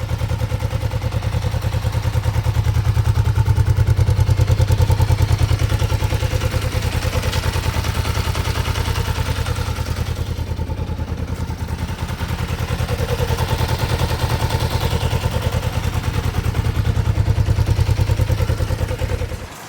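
A low-mileage motorcycle engine idles steadily and loudly nearby, a low rumbling drone with rapid mechanical ticking that holds throughout before cutting off.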